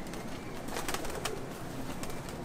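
Pigeons in a New Jersey loft, including tipplers, nuns and old Canadian flyers, coo softly and continuously amid a dense, busy background of birds.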